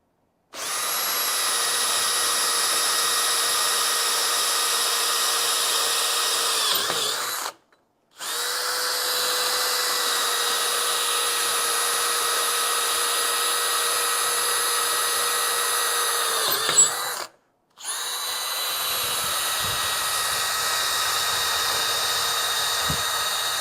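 A Diablo Metal Demon bit bores three holes in steel one after another, each a steady, loud, high-pitched drilling whine lasting about seven seconds, with brief silent pauses between holes.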